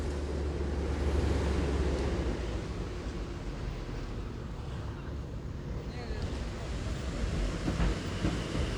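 Mountain streams rushing near Babusar Top, feeding toward the Indus River: a steady, broad roar of flowing water with some wind, continuous and fairly loud.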